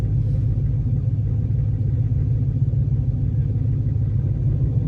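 A deep, steady engine rumble comes from a Hemi-swapped 1970 Challenger and a 1971 El Camino SS, both with manual transmissions, at a street-style drag race. The sound holds constant and close throughout, with no revving bursts and no talking.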